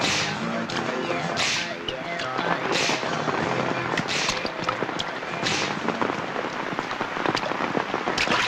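Steady, dense rain pours throughout during a cyclone, a loud broadband hiss with music playing over it.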